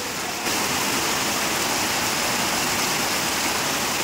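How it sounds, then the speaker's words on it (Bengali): A heavy downpour breaks in within the first half second, then roars as a loud, dense, unbroken wash of rain for the rest of the stretch. "প্রচন্ড পরিমাণে বৃষ্টি হচ্ছে।"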